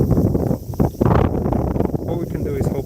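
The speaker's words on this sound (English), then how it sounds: "Oh, it's really windy." Heavy wind buffets the microphone with a loud, steady roar that gusts and rumbles throughout, during an evening walk in Den-en-chofu, Tokyo.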